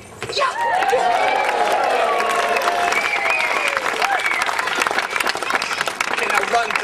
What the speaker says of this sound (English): yell, clap, and scream like it was a really good trick